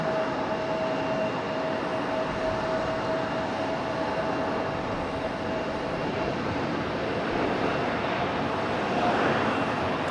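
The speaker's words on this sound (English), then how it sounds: "Frontier touching down." An airliner lands at Raleigh-Durham International Airport, heard as a steady, broad roar of jet noise with a faint tonal whine, holding continuous and fairly loud throughout with no talk.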